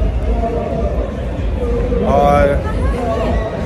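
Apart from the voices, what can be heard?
crowded cafeteria chatter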